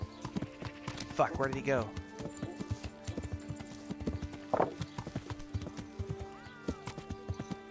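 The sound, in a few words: horse hooves and neighing in video game Kingdom Come: Deliverance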